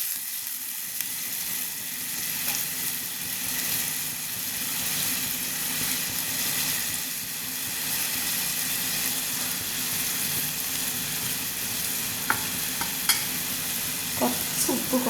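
Tomato curry sizzles steadily in a pan while being stirred, a continuous frying hiss with occasional scraping clinks near the end, no voices.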